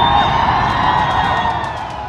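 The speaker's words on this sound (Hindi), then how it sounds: "नीचे जमीन पर हजारों लोगों के मुंह से हैरान कर देने वाली चीखें गूंजने लगी" Thousands of people scream and shout together at the demolition of Noida's Twin Towers, a dense, loud, sustained wall of crowd voices at a distance.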